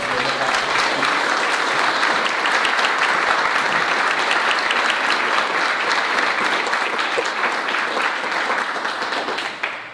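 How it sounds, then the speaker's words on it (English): Sustained audience applause for a panel at a community rebuilding forum in Anderson, a dense, steady wash of many hands clapping that continues for about ten seconds before tapering off. "Panel, a round of applause."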